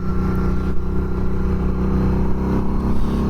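Harley-Davidson V-Rod Night Rod Special motorcycle running while ridden, a loud continuous deep engine rumble with steady harmonic drone and slight throttle swells, heard close up with no talk.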